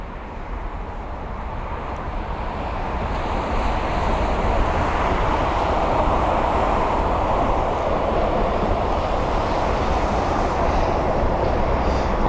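A Boeing 777-300 airliner arriving from Dallas at London Heathrow produces a broad, continuous roar that swells over the first few seconds and then holds loud and steady, with no voices.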